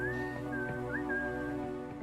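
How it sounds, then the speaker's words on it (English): A character in the spaceship-building sim Space Haven whistles a thin, sustained melody with slight pitch bends, steady and clear over a low humming drone, with no talking. "I think that's Wednesday whistling"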